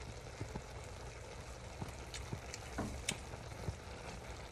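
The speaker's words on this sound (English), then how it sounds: "Now we just let that simmer for another 10 minutes on a medium low heat" Cabbage simmers in a pot on medium-low heat, giving a faint, steady sizzle and soft bubbling with scattered small pops and clicks throughout.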